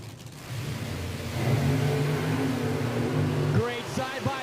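Pro Nitrous doorslammer drag cars launch at a PDRA drag strip in Norwalk, Ohio, their engines rising to a loud sustained roar before cutting off sharply, with an announcer talking over the noise.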